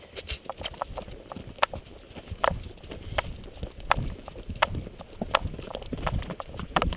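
A horse cantering across open moorland, its hooves striking in a quick, uneven clip-clop rhythm over steady wind and rustling noise, with no talk.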